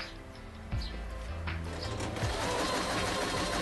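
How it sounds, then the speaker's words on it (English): A Kreshay sewing machine stitching in reverse, its fast steady mechanical whir close and continuous, with a few clicks near the start as the machine changes direction. "that will make your machine go into reverse, which is useful at the end of a seam"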